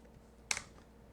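A single short burst of computer keyboard typing, a couple of quick close clicks, alone over a quiet background.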